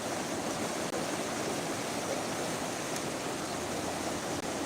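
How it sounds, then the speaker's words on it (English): Rough, loud river water rushes at a riverside park, a dense continuous roar of broadband noise that holds steady and close throughout with no speech. "Can you hear how loud that is? Look how rough the water is over in here."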